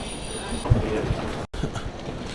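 A Moscow–Saint Petersburg sleeper train pulls into a station with a brief rumbling, clattering sound of rolling cars, heard close by, with voices in the background.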